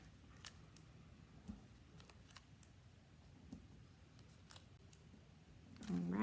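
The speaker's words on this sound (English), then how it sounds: "let me get my scissors so I can finish this up here" Scissors cutting cardstock while a greeting card is being finished, with a series of sharp close snips spread across the clip over a quiet background and a louder rustle at the end.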